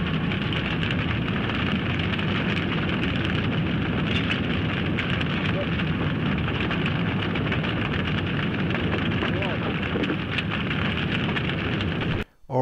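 A city fire random event in the OpenPatrician trading game, heard as a steady, loud crackling roar like burning and heavy rain that fills the whole stretch without pause, then cuts off sharply at the very end.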